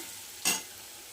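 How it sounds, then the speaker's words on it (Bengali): Pointed gourd, potato and pomfret fish curry is fried and stirred in a pan. A steady low sizzle runs throughout, broken by a single short, louder scraping stir partway through, with no talking. "আমি কষিয়ে নিচ্ছি সুন্দর করে"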